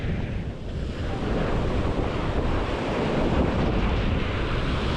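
Sea waves wash up onto the sandy shore of Playa Mamitas, a steady loud rush of surf mixed with heavy wind buffeting, continuous and unbroken.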